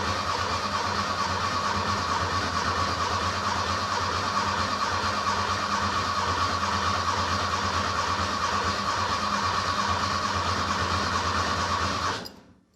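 The starter spins a Porsche 912 engine with no fuel pump running, building oil pressure. It makes a long, steady, close mechanical cranking drone that holds unbroken for about twelve seconds before stopping abruptly.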